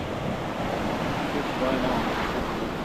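Sea waves washing steadily around anglers out on winter bass fishing water, a continuous broadband surge of surf with wind buffeting the microphone, no clear breaks between swells.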